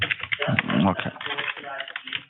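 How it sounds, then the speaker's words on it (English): Fast, forceful typing on a computer keyboard, a dense run of clacking keystrokes under a voice talking over a narrow, phone-like line. "you're beating that keyboard"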